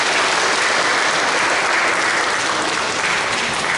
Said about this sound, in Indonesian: Tepuk tangan untuk mereka semua.